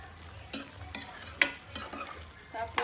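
Upo curry with tomatoes simmers in a pan under a low, steady sizzle, broken by several sharp scrapes and clacks of a utensil stirring at irregular intervals.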